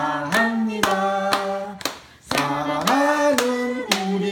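Hands clap at a family birthday celebration with grandparents, with sharp, evenly spaced claps keeping a steady beat under a voice singing along and a short pause midway.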